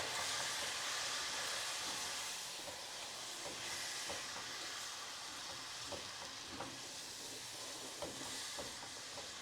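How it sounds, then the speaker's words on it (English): Steady hissing sizzle of vanilla in hot granola being stirred, with faint scraping and soft clicks throughout, close and continuous. "Can you hear the vanilla? It's like sizzling."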